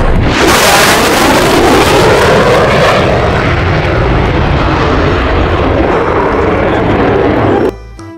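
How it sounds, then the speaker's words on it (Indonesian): Toy fighter jet giving off a loud, continuous roaring whoosh that starts bright and sustained, steadies into a broad rumble for several seconds, then cuts off abruptly near the end. "Yang ini ada pesawat tempur."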